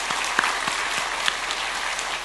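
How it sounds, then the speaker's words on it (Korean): A church congregation applauds during a Sunday worship service to welcome new members, brief even clapping from a room full of people, moderately loud and steady. "우리 박수로 환영하며 축복하겠습니다"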